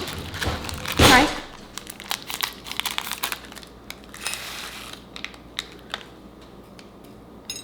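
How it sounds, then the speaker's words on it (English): A plastic packet of sprinkles is cut open while baking cookies, with a loud burst of crinkling followed by a run of small crackles, snips and rustles close by. "we're gonna cut open our sprinkles"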